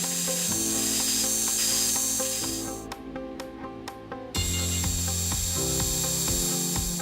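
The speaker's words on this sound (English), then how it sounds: "the next step was to form centre holes on each end of the stock" Lathe drilling centre holes in the ends of silver steel stock, a steady mechanical hum with a dense rhythmic rattle and grinding, briefly dropping and quieter midway before running loud again.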